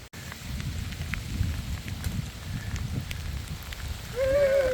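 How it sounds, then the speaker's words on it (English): Steady rain hisses on a trail during a thunderstorm, a continuous broadband wash with low rumbling wind, and a rising whistle-like tone near the end. "in a rain and thunderstorm."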